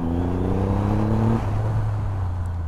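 A Triumph Rocket 3 R motorcycle engine drones loudly and steadily at close range while riding at about 80, its pitch edging upward before shifting abruptly to a lower, rougher tone midway.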